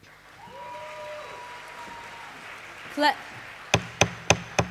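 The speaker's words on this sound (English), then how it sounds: "Clapping is not in order." Delegates clapping at a Model UN opening ceremony, a brief scattered burst followed by four loud, evenly spaced claps, after a quieter stretch with faint background tones.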